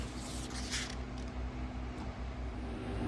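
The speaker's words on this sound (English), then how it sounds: "pardon the background noise, I had to turn my air conditioner back on" A home air conditioner hums steadily in a kitchen, a constant broadband whoosh with a low tonal drone underneath, continuous and even throughout with no talking.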